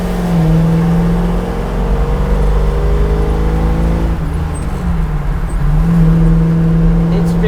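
A Chevrolet Camaro Z28 engine drones steadily from inside the car while driving, its low harmonic tone dipping briefly midway and then climbing back up, loud and continuous.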